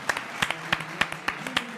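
A few people clap in a slow, uneven rhythm, about nine close single claps in under two seconds, for Barcelona players being substituted in a Copa del Rey match against Atletico Madrid.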